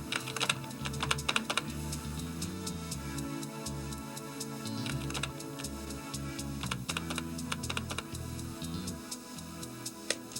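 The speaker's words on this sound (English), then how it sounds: "So first we'll type in the name and the fax number." Irregular clicking keystrokes on a computer keyboard type out a name and a fax number in quick bursts with short pauses, close and fairly clear.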